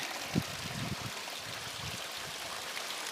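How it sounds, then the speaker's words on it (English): Rainwater from a 12-hour overnight downpour runs through a flume as a steady, broadband wash of flowing water, moderately close, with a brief louder splash near the start and no talking. "Look at the amount of water we have flowing through the flume today."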